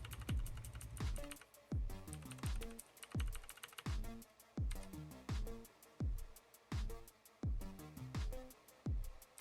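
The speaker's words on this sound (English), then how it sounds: "I'm enjoying the comfort and click of the keys." Typing on an AOC GK500 mechanical gaming keyboard: quick bursts of sharp key clicks with a brief pause between each burst, close and clear, with no voices.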